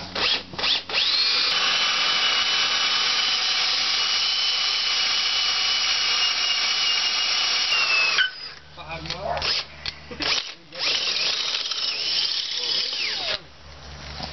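Power drill boring into an aluminum block welded to a thermostat housing, a loud continuous grinding whine that runs steadily, then breaks into stuttering bursts and pauses as the bit bites and stops.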